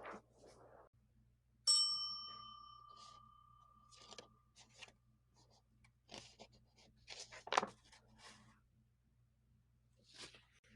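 A single bright bell chime rings out and fades slowly, followed by quiet rustling and soft incidental sounds.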